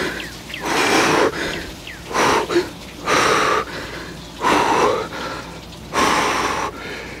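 Heavy, ragged breathing after an ice-cold plunge: about six loud, close gasping breaths in an uneven rhythm, separated by brief quieter pauses.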